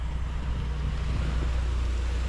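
Strong wind blowing outdoors during driveway washing, a continuous low rumbling buffet of gusts against the microphone, steady and loud with no talk.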